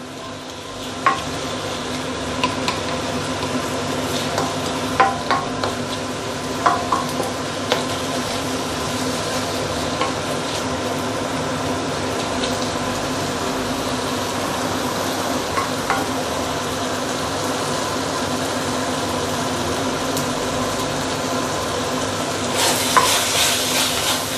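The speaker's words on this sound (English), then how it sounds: "I will keep on stir frying like this." Steady sizzling of pork being stir-fried in a hot pan, with occasional scrapes and clinks of a spatula stirring, continuous and close throughout.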